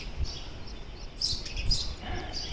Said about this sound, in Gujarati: ચકલિયું બહુ થઈ ગઈ છે હમણાં.